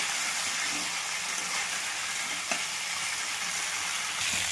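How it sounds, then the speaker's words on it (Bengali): Fried cauliflower, potatoes and spices sizzle together in a pan as they are stir-cooked, a steady, close, hissing fry with a faint clink of a spatula partway through. "এবার কষে নেবো সব একসাথে, যত কষাবে তত খেতে ভালো হবে।"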